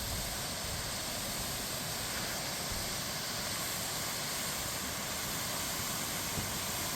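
A waterfall near a hiking trail roars steadily, a loud, unbroken broadband rush of falling water with no other sounds standing out.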